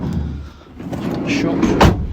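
A 2018 VW Caddy 2.0 TDI Kombi van door is shut with a single solid thud near the end, against low background noise and faint voices.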